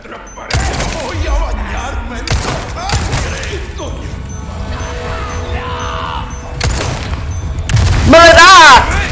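Explosions and crashing impacts in the video game Resident Evil 4 Remake, several sharp loud booms spread across the clip with a heavier blast near the end, mixed with game effects and a voice talking over it.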